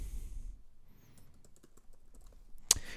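Soft, scattered key taps on a computer keyboard while entering text, faint and irregular, ending with one sharper, louder click near the close.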